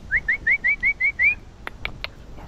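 Seven short rising whistles from a person prompting a puppy, in quick, even succession, followed by a few faint clicks and taps; no voices.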